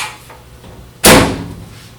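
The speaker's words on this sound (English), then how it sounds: "close the door up" A single solid thud as the lid of a 30-watt Universal Laser Systems cutter is shut, sharp and close, followed by a brief fading rumble over quiet room tone.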